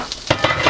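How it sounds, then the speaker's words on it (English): Ground meat sizzling and crackling in a hot pan, a dense, close frying hiss with quick stirring scrapes breaking through over a short moment. "you want it to be sizzling, not simmering"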